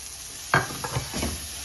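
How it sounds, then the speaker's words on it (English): Carrots being stirred into semolina halwa in a pan, a spoon scraping and pushing the mixture in a few distinct strokes over a faint background sizzle, close by and fairly quiet. "And we will stir it down."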